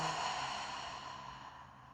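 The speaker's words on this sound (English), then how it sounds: "And exhale through the mouth." A deep, slow exhale through the mouth during a breathwork exercise, a soft breathy rush that starts strong and gradually fades over about two seconds, close and alone.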